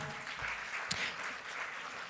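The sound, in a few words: audience applause at a conference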